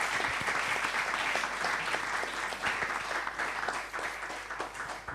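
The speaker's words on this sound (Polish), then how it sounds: "Proszę jeszcze o oklaski dla wszystkich." Audience applause at a conference on truth and reconciliation after Solidarity, a steady, fairly quiet patter of many clapping hands with sharper individual claps standing out, continuing without pause.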